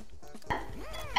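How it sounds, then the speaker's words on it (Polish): A cartoonish dog barks a few times in the platform video game Ultimate Chicken Horse, short yelps amid quiet game sounds, with no talk. "Pies."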